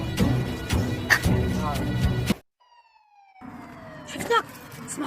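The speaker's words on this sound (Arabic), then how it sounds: "صوت سيارة بوليس" A police car siren wails with a falling, sweeping tone, fairly faint and distant, in a short quiet gap between stretches of people talking.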